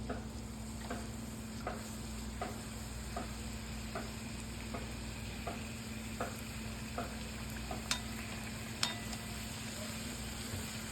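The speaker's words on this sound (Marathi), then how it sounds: "आपण आपल्या ज्या शेंगा आहेत त्या आपण फ्राय करून घेणार आहोत" Fresh bean pods fry in hot oil, giving a continuous close sizzle with a steady bubbling hiss and faint regular ticking throughout, and no voices.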